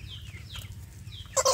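Free-range village chicks cheep and peep in short high calls outdoors, fairly faint over a low background hum, with a louder burst of clucking or chirping at the very end.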